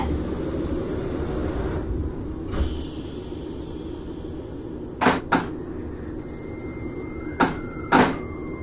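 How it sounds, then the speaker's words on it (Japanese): Doors of an E257 limited express train closing in a BVE5 train simulator, several short thumping and sliding bangs over a low steady hum, some close together, with a faint tone lingering after. "ドアが閉まります。"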